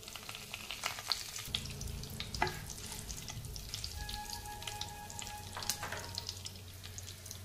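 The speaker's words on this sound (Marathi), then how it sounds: "तेल गरम झाले, त्याच्यामध्ये आपण घालणार आहोत मोहरी, जिरे, हिंग, कढीपत्ता" Mustard seeds, cumin, asafoetida and curry leaves crackle and sizzle in hot oil in a pan for moong dal aamti, a steady close frying hiss with scattered pops and spits throughout.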